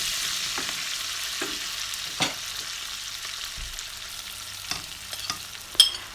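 Pork and freshly picked sparrow gourd (chuche karela) fry in a pan. A soft, steady sizzle runs under scattered scrapes and clacks of stirring, with a sharper knock near the end.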